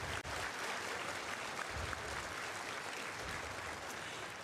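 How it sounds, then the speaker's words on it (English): Applause from an audience fills the space for several seconds, a dense, steady wash of clapping at moderate loudness with no voices standing out. "another applause for our wonderful team."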